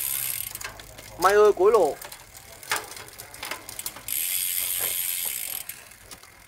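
An Italian Java carbon road bike with a 9-speed rear cassette ratchets and clicks through its gears. Close mechanical ticking and clicks come in bursts, and a voice briefly speaks over them.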